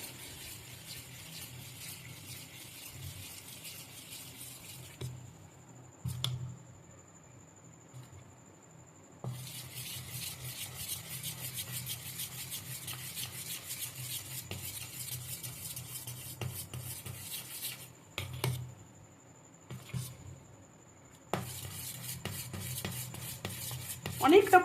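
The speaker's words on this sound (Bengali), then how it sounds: "এইবারে আমি ফেটিয়ে নেব।" Fermented idli batter whisked in a bowl, a steady close rubbing and scraping that runs in long stretches with brief pauses.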